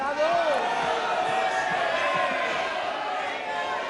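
Loud, dense crowd applause and cheering from a large audience at a political speech by a politician, a sustained wash of clapping and voices that stays steady throughout.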